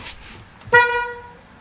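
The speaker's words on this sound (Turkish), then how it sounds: "Hadi bir korna çalayım da iştahlar yerine gelsin." One short, loud car horn toot sounds inside a garage, close and clear over a faint background hum, then fades out.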